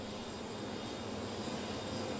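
An Antonov 124 cargo plane at Cleveland airport produces a steady, loud engine roar that holds an even drone throughout, with no talk over it.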